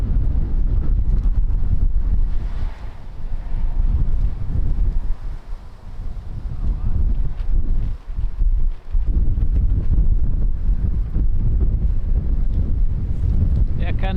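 Strong wind roars across the microphone at Lisbon Airport, a loud, gusting rumble with brief dips between buffets, heard alone and close throughout.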